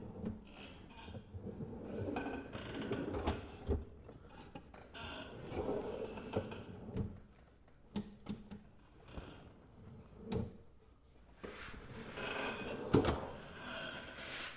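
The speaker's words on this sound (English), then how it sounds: "you just basically line them up and slide them in. And you hear them click." Plastic workbench parts rub, slide and knock together in bursts, with a few sharp clicks as pieces snap into place, close and fairly quiet.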